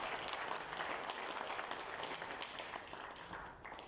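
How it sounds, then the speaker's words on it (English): A crowd claps warmly and continuously at an award ceremony, a soft, even wash of applause that tapers slightly at the end. "They deserve a warm round of applause."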